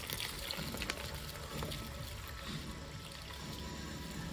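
Water trickles and splashes steadily into a small backyard pool at a mountain home, a continuous, fairly close wash of liquid sound with no voices over it.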